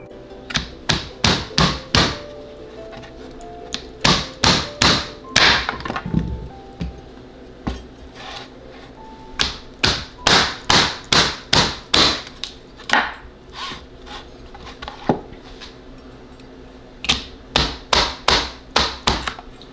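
A big, thick, blunt knife chops through a hard potato, sharp repeated whacks against a cutting board in uneven bursts with short pauses, loud and close throughout.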